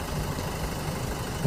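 A Jeep Wrangler engine idles steadily at close range, a low, even rumble with light vibration and no voices over it.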